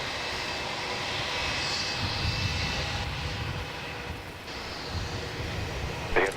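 An airliner's engines run steadily on the runway at Melbourne Airport, a broad, continuous roar that holds at a fairly even loudness throughout, with no voices.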